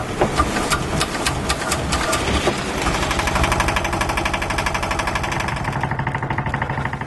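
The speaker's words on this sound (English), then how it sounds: "we just start the engine and let it suck from the bottle of antifreeze" A boat engine running while antifreeze is flushed through it gives a rough, rapid knocking chug. It starts with sharp irregular bangs, then settles into a steady close rattle with no talk.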